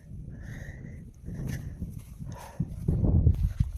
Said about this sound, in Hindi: कुछ घोड़े हैं